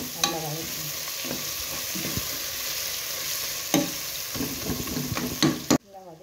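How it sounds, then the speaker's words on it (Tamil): Mint and coriander sauté in a pan for prawn biryani, a loud continuous sizzle broken by scraping stirs and spoon knocks, with a faint voice briefly at the start and end. "புதினா கொத்தமல்லியும் சேர்த்து கலந்து விடுங்க."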